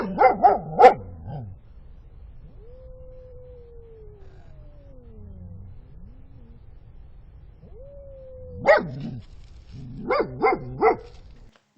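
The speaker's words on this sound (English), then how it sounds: "he was also starting to be a little punk, barking at the raccoons in frustration" A dog barks at raccoons near a baited trap outdoors: a cluster of sharp, fairly close barks, then a long quiet stretch, then more bursts of barking toward the end.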